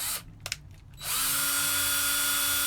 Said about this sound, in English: It's a Music Nomad string winder, and instead of getting one of those little itty bitty string winders by Ernie Ball, just get one of these, put it on your drill.